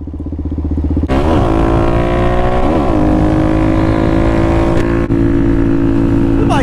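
Suzuki DRZ400SM supermoto motorcycle engine starting up loud and close after a brief idle, then holding a steady revving drone with pitch shifts as gears change, one short dip near the end.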